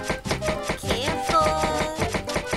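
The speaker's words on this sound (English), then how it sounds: "Chop it, chop it, chop it." Knife chopping in the Cooking Mama video game, a run of quick regular taps set against bright, steady game music.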